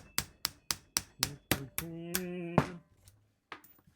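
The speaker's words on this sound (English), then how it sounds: "Get our small tappy hammer." A small hammer taps a part into a Diana sidelever air rifle during a relube: about seven sharp, evenly spaced metallic taps, close and clear, then a brief scraping rub and a couple of faint knocks.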